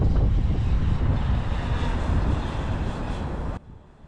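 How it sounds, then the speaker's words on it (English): A DEERC DE22 drone flying back toward its takeoff point, a steady broadband whir with wind noise that holds for several seconds and then drops off sharply. "I can already see the drone spinning around, finding where it needs to go."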